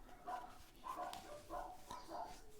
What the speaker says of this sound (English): The dogs are annoying.